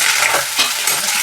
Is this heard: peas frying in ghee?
yes